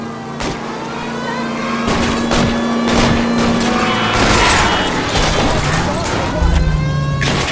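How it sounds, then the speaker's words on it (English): Rapid gunfire aimed at a fleeing car during a chase in the video game L.A. Noire, loud bursts of shots over a running engine and crashing noise, with voices talking over the action. "I'll try to shoot out his tires."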